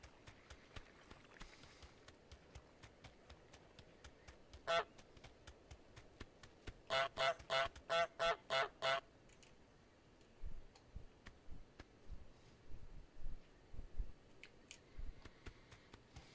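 A cartoon goose honks in Untitled Goose Game: one honk, a short pause, then a rapid string of about six loud, evenly spaced honks over a quiet garden backdrop with soft ticking clicks.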